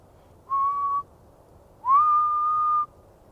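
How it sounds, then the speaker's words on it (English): A person whistles two clear, steady notes in a quiet forest at night. The first note is short and the second is longer and rises at the start, with silence around both. "I know a lot of entities do not really care for whistling, so trying to whistle to get them all riled up"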